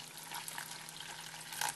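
Water is poured into plaster for a plaster candle holder, a faint, steady trickle and splash that runs continuously and quietly, with a soft low hum underneath.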